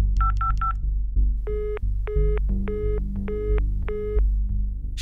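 Telephone keypad tones being dialed: three quick beeps, then five evenly spaced longer tones over a low droning background hum, clear and close with no talking.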